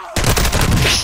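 A sudden burst of rapid gunfire in Call of Duty: Modern Warfare II, loud and close, with sharp repeated shots in quick succession lasting about a second.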